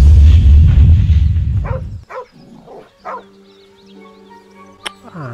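A dog in the fantasy role-playing game Baldur's Gate 3 gives several short sharp barks and yips, spaced apart after a loud rumbling start, with faint whimpering tones and a later snap-like accent.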